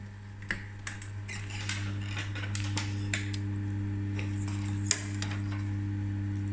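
Sewing machine topstitching car seat back upholstery in a workshop, a steady low motor hum with light irregular ticks and clicks of the mechanism, close and moderately loud, with no talk.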